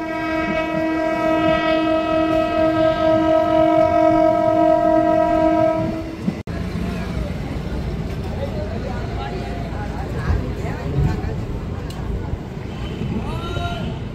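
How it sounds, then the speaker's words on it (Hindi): A passenger train sounds a long, steady horn blast for several seconds as it pulls into Joura railway station. Rumbling and clattering wheels with squealing brakes follow, and voices talk over the noise of the arriving train. "गाड़ी हमारी दोस्तों आ गई है जोरा के रेलवे स्टेशन पर"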